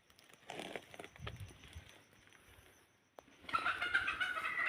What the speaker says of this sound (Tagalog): maraming mga manok namin, mga native